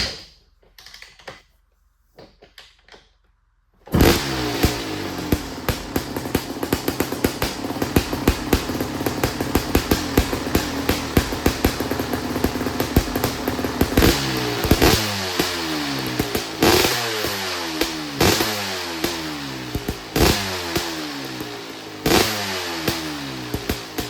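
A Kawasaki KX500 two-stroke dirt bike roars to life after a few quiet seconds and keeps running loud and close, its engine note rattling and crackling with repeated throttle blips and rough pulses throughout.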